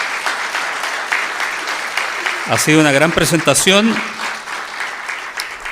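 Audience applause for a departing presenter at a talk on artificial intelligence, a broad wash of clapping heard throughout, with a voice speaking over it in the middle.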